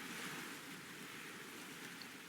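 Calm mid-Atlantic ocean in the Sailaway sailing simulator on a sunny day: a steady, soft broadband wash of waves and wind, quiet and even throughout, with no voices.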